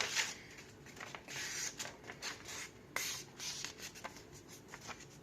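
Sheets of paper being folded in half and creased sharply by hand for an origami filter mask, with close, soft rustling and scraping strokes in short, uneven bursts.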